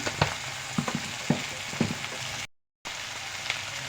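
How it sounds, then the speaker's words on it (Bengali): Eggplant, egg and ground spices are sautéed in a pan with onion paste, giving a steady sizzling fry with scattered scraping taps of a spatula and a brief dropout partway through. "এটাকে আমি ভালো করে কষিয়ে নেবো"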